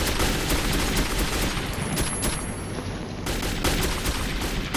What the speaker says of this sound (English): use this mounted machine gun to help